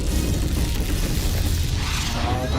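Explosion from an animated Death Battle fight between Batman and Spider-Man: a loud, dense blast with rumbling low boom and crashing debris noise that fills the whole stretch without pause.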